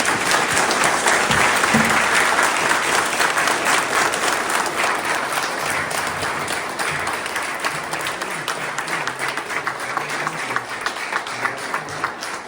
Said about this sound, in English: can we give a big round of applause to the library and our candidates?